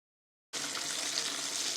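Food frying KFC style at a barbecue zone in Gazipur, Bangladesh: a steady, close sizzling hiss that starts abruptly and holds even and loud to the end.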